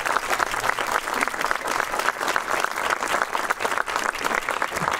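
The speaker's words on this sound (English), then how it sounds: "Let's give him a round of applause" Audience applause at a city dedication ceremony for an exhibition hall, a steady wash of clapping from a sizeable crowd that carries on unbroken, loud and close, with no talking over it.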